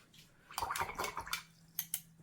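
Watercolor paintbrush swished and rinsed in a water jar, a few soft splashy bursts and light drips, close and quiet, alone.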